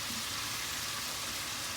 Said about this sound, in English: But frying chicken is hard.